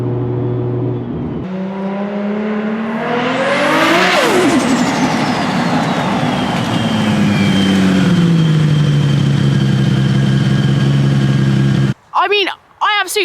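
A sports car engine revs up through the gears to a loud peak, then falls back and settles into a steady drone as it goes down the gears, close and alone, with brief voices at the very end.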